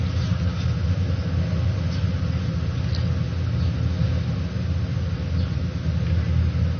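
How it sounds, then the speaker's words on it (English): Steady low interior rumble of a car driving along, constant road and engine drone with no talk. "We're driving."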